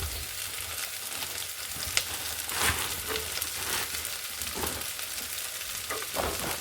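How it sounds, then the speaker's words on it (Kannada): Cluster beans (gorikayi) frying in masala in a pan make a soft, close sizzle, broken by a few sharp scrapes and clicks of stirring, with no voices. "ನೆಕ್ಸ್ಟ್ ಗೋರಿಕಾಯಿನೂ ಹಾಕ್ಕೊಂಡು ಎಲ್ಲ ಚೆನ್ನಾಗಿ ಫ್ರೈ ಮಾಡಬೇಕು."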